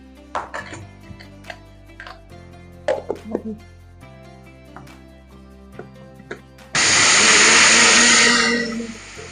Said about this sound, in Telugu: ఇది కొద్ది కొద్దిగా వేసుకుని మిక్సీలోనే మిక్సీ పట్టుకోవాలండి